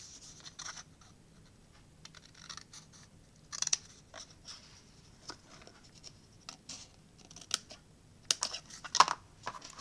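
Paper being cut with scissors while making a pop-up card: a series of short, quiet snips and scratchy crisp bursts at an uneven pace, close by, with no talking.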